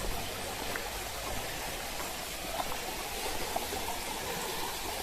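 Water pours over a weir and through a sluice gate as a steady, even rush of flow that stays at one level throughout with no voices.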